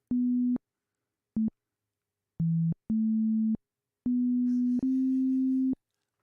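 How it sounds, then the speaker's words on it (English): A sung vocal melody converted to MIDI plays back as a plain sine-like synth tone, several isolated sustained notes with gaps between them, clean and alone. "Let's hear what my vocals sound like as MIDI."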